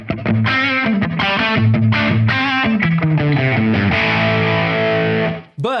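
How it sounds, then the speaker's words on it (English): An electric guitar runs through a Two Notes Reload II cabinet simulator with a slap echo patch, playing loud distorted chords and riffs that ring out before cutting off abruptly near the end. "So this cab sim patch that I'm using has a little bit of slap echo."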